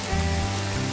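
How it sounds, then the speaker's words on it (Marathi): Continuous monsoon rain falling at a hill fort, a dense, even wash of close patter that runs without a break through the short clip, with no talking. "सतत पाऊस पडत आहे, सतत पाऊस, नुसता पाऊस पाऊस पाऊस"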